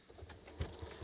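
A sewing machine runs in a short, quiet burst while stitching binding onto a red heart banner, its motor whirring low and steady with faint rhythmic needle taps.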